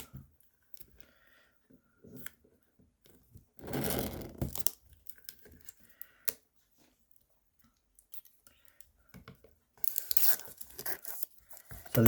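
Blunt scissors work open the cardboard box of a Xiaomi 70mai A800 dash cam, giving close, quiet bursts of tearing, crinkling and snipping scattered between pauses, with a louder rip near the start and rustling toward the end.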